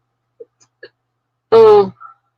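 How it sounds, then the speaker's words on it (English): A person hiccups: a few small, faint catches followed by one louder voiced hiccup-like burst near the end, with a brief soft sound after, and no talking. "I have hiccups now"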